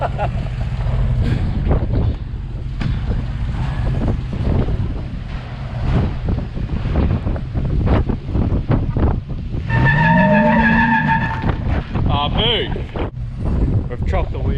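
A vehicle skidding inside a shed with its wheels chopped, giving a continuous loud rumbling engine and tyre roar with a rising whine partway through, heard close.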